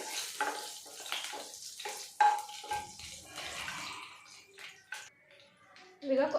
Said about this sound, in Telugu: అలాగే కొద్దిగా జీలకర్ర వేసేసుకొని వీటిని దూరగా ఫ్రై చేసుకోవాలి